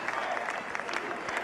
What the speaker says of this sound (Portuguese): Muito aplaudido conforme ele diz isso.